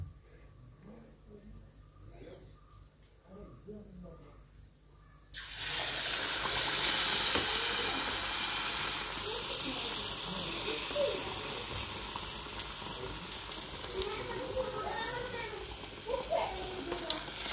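Banana fritters (pazhampori) go into hot oil: a quiet lead-in gives way to a sudden loud burst of bubbling sizzle that stays strong and steady, close by.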